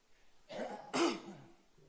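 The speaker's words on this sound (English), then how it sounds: "Try not to cough into the microphone." Someone coughs and clears their throat close to a community radio studio microphone, two short harsh bursts in otherwise quiet surroundings.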